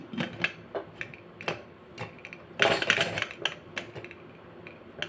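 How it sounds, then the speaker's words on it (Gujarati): A pressure cooker lid is closed over dal makhani, heard as a run of close metallic clicks, taps and clanks with a louder scraping rattle in the middle. "હવે આપણે પ્રેશર કુકરનું ઢાંકણું બંધ કરી નાખશું।"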